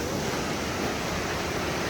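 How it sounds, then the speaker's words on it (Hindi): River water rushes past in a steady, loud, unbroken roar of flowing water with no voices. "दरिया का पानी आ रहा है जो कि दरिया के सीधे में दरिया में आता है"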